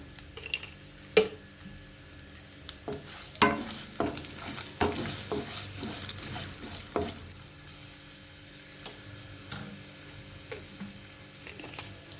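Mustard seeds and cumin seeds sizzle in hot oil, with scattered crackles and pops over a steady low fry and a few sharper clicks of stirring near the start.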